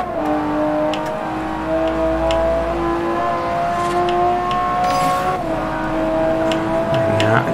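A racing car engine in the game Forza Horizon drones loudly and steadily, its pitch climbing and dropping through gear changes, with a brief tire squeal near the end.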